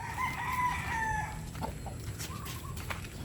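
A Shamo gamecock crows loudly nearby, then clucks and scattered fowl calls follow over a low rumbling background.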